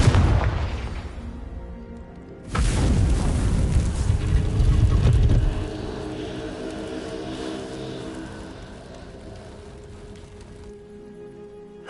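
Confringo blasting curse exploding in Hogwarts Legacy, two deep booming blasts, the second heavier and rumbling for several seconds before fading into a long, low tail.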